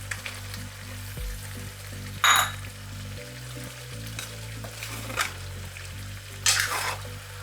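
Bamboo shoots sizzle in a frying pan with caramelized Cambodian pork, a steady frying hiss under quiet background music, with a few brighter bursts as the pan is stirred.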